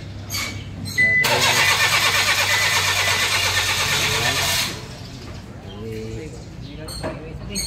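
A converted Nissan vehicle's car engine cranks and catches during a test start, a loud burst of whirring engine noise lasting about four seconds before it drops away, with a person speaking nearby afterward.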